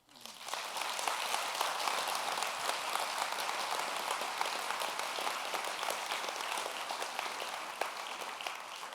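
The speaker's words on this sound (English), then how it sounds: "please applaud" Steady, dense applause from an audience at an education talk, a sustained wash of many hands clapping that rises quickly and holds at even volume, heard from some distance without talk.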